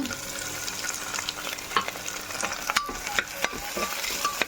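Tomato added to frying onion and crushed garlic in a pan, steady close sizzle with repeated scraping and clinking of a stirring spoon, several sharp taps scattered through, no voices.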